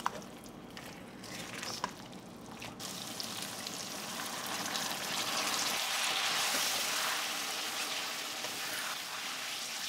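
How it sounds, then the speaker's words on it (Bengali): Water pours into a sizzling pan of spicy Bengali liver curry (liver kosha), a hissing splash that swells and steadies into a loud, continuous bubbling rush. "পরিমাণ মতো জল দিলাম"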